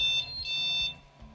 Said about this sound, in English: Oh, it's a happy printer again. I forgot it beeped.